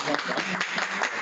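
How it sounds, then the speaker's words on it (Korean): Brief, steady applause from a colloquium audience thanking the speaker at the close of a talk, a continuous patter of clapping lasting about a second with no break. "선생님 선배님께 박수 한번 드리면서 감사합니다"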